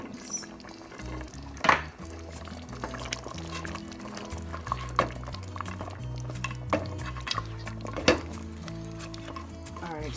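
A spoon stirs lima beans into a simmering oxtail stew in a pot, producing wet sloshing and scattered clinks against the pot, close by, with a steady musical tone running underneath.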